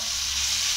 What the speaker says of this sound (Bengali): এবারে আমি ওই কুমড়োর গ্রেট করা কুমড়োগুলোকে দিয়ে সামান্য একটু নাড়াচাড়া করে নেব